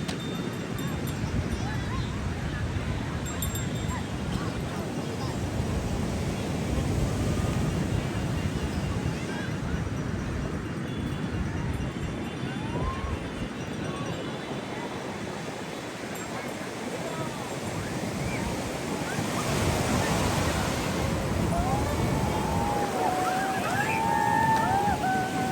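Ocean waves breaking on the sea shore at Puri in the evening, a continuous surging wash of surf with wind buffeting the microphone and distant voices.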